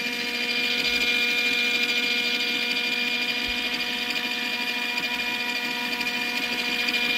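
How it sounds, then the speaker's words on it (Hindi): A folding mini washing machine with its dryer running gives a steady, even motor whir and hum that stays constant throughout, with no talking. "अब जो है इसका ड्रायर ऑन करके हम दिखाएंगे।"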